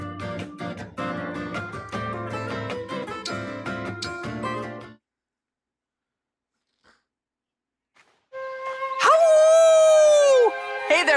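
A drawn-out howl from a character in Fire Emblem Engage, rising loudly in the final seconds after a stretch of game music and a silent pause.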